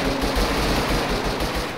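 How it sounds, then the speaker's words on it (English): Rapid automatic gunfire in the survival video game Rust, loud sustained bursts of rhythmic shots in close succession, with no talking over them. "Someone's shooting at me right now."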